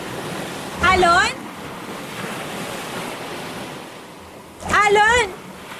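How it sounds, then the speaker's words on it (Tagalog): Ocean surf washes in a continuous, fairly loud hiss with wind noise, while a voice calls out briefly twice over the waves. "Alon?"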